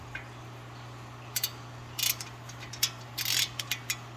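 A ratchet backing out torque bit screws on a car's brake dust shield after the rotor is removed: scattered short bursts of faint metallic clicking with pauses between them over a steady low hum, and no voices.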